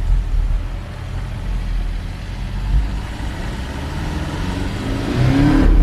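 A Porsche in Sport Plus mode with its spoiler raised drives along, its engine a steady loud rumble that builds and rises in pitch as it accelerates toward the end.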